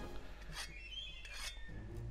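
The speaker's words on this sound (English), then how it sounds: "Just need to sharpen my hammer once more." A whetstone sharpens a hammer weapon in Monster Hunter: World with two rasping scrapes against a faint game background, each stroke a brief gritty rub.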